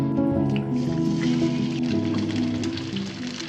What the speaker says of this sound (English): I added some cooking oil on the pan, just enough for 2 eggs